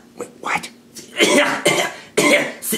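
Several short, rough coughs and throat-clearing bursts in a school classroom during a test, coming in uneven clusters, fairly close and moderately loud, with no clear talking.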